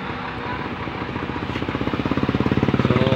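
A repaired Kyowa microwave oven that had not been heating runs after being switched on, giving a steady droning hum with a rhythmic pulsing throb that grows more pronounced, up close with no talking.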